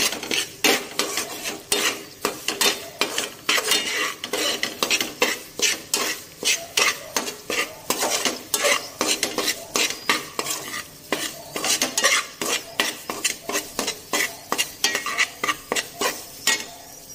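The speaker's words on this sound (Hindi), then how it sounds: "अभी सूजी को भूनूंगी खूब अच्छी तरीके से" Semolina being roasted for halwa, stirred with a spoon in a pan: fast, loud, rhythmic scraping strokes repeating throughout over a faint sizzle, with no talking.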